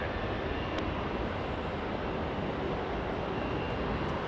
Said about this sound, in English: Let's go to Hawaiian Airlines, another heavy departure. This time flying to Kona, Hawaiian 61. That's an A330.